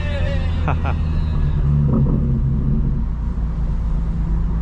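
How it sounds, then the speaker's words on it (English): Slow Atlanta city traffic at night, heard from inside a 2025 BMW M4 Competition xDrive, gives a loud, constant low rumble of engines and road noise, with a couple of brief higher tones near the start. "give you the ambiance of Atlanta traffic at 8:20 at night on a Thursday"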